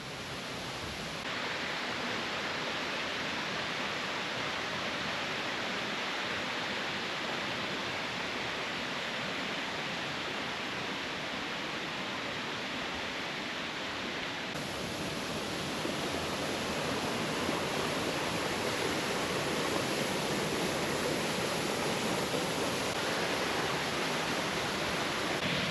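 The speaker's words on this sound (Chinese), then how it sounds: "這邊溪水流經岩壁，如果水量多的時候，會形成滑瀑的風景。" Stream water pours over a rock wall near a waterfall on a mountain trail in Meishan, Chiayi, a steady broadband rush that fills the scene without pause and without voices.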